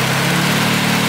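A turbocharged car engine idling close by, giving a smooth, steady, unbroken hum with a low rumbling drone throughout.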